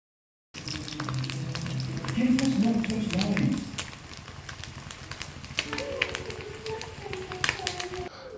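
Steady sizzling of fish frying in hot oil, fairly close, with brief talking and some clinking in the first few seconds.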